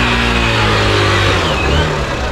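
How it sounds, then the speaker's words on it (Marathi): Car engines rumble loudly and steadily up close as vehicles drive up onto a ferry at Rewas jetty, the low drone rising slightly as one accelerates. "मित्रांनो बघा कशा गाड्या चढवतात।"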